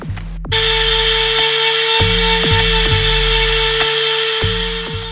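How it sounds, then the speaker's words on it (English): Power sander working cheap wood, a loud steady whine and buzz that starts abruptly after a brief bump and runs continuously, with small rhythmic thumps as the tool moves over the surface. "I'm just gonna sand them all down and fill all these holes"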